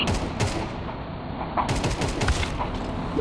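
Counter-Strike 2 gunfire, rapid bursts of shots crackling in quick succession with sharp transients layered over constant game noise, fairly loud and busy.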